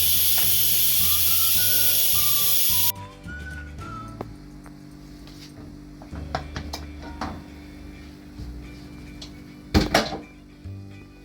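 A pressure cooker holding chicken for steam roast lets out a loud, steady hiss when its weight is lifted. The hiss cuts off abruptly, leaving quiet kitchen clatter and a few sharp knocks.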